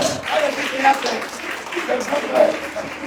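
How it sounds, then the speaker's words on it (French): A congregation at a church service claps together in steady, dense applause to acclaim the Lord, with voices and calls mixed into the clapping throughout. "On acclame le Seigneur."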